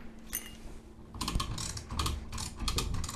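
Locking screws being undone on a Deckel FP1 milling machine, a series of faint ratcheting, clicking metallic turns in a quiet workshop, growing busier toward the end.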